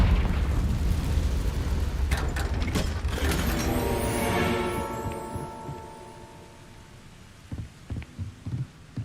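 A Confringo blasting spell going off in Hogwarts Legacy, a loud rumbling explosion with a bright whooshing burst that decays over several seconds, followed by faint thumping game sounds.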